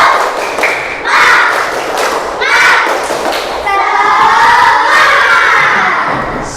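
A class of schoolchildren repeats a rhythmic clapping cheer, quick claps in a set pattern under loud group chanting and shouting that swells toward the end.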